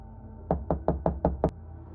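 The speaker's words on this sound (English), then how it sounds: "there was a knock at my door." Six quick, evenly spaced knocks on a door, close and crisp, landing in one short burst in otherwise quiet surroundings.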